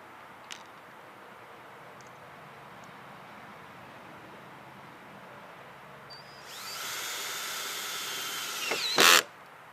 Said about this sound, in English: We do that by using self-tapping Phillips head screws right in these two holes here into the aluminum channel